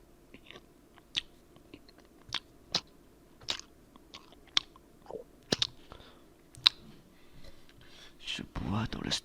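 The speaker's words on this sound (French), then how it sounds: "Chut, écoutez-moi manger" Someone chews and munches close to the microphone, producing a series of sharp, separate crunchy bites and wet mouth clicks at an irregular pace, with a brief louder burst of noise near the end.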